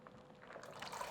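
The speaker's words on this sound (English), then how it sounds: "I am going to be pouring these beans inside the water." Parboiled beans pour into a pot of water as a brief, soft, rising splash, close by and with no talking.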